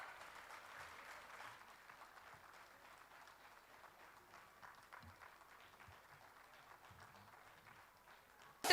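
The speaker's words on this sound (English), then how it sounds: "A huge round of applause for the teacher." Audience at a school event gives a teacher a round of applause, a fairly faint, distant patter of many hands clapping steadily.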